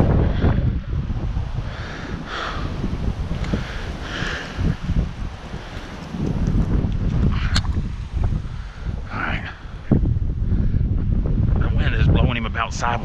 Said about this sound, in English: That's how strong this wind is out here.